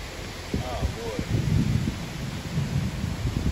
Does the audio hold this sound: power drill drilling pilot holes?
no